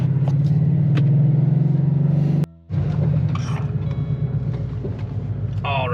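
A Ford Mustang with a 5-liter Coyote V8 setting off on a drive, a loud close rumbling engine note that cuts out briefly, then resumes with creaks and mechanical rattles over bumps.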